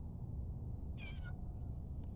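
A single short meow from a pet lap cat outdoors on a warm day, fairly faint over steady low background rumble, with no voices.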